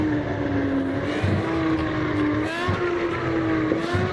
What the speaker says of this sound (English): you might hear some crackling and some popping. Don't worry, it's just the exhaust.